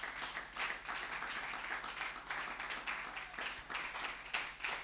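A church congregation claps and cheers in praise of the Lord, a steady wash of applause with rhythmic swells, fairly distant and soft.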